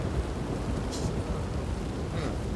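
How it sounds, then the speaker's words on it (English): Steady rain hisses in the Red Dead Redemption 2 video game, with low rolling thunder rumbling underneath and a couple of brief brighter splashes; no voices. "here comes the rain again"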